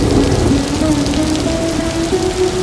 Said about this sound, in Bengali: মেঘের গর্জন আর বৃষ্টির রিমঝিম শব্দ প্রকৃতিতে এনে দেয় অনন্য ছন্দ।